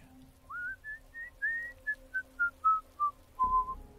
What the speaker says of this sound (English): off-tune whistling floated up to my room